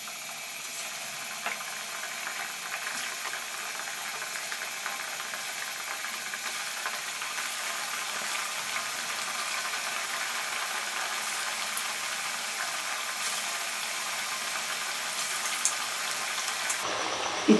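Potato slices for aloo pakora chips fry in hot oil in a wok, giving a steady, loud sizzling hiss that carries on unbroken for well over fifteen seconds, with no talk.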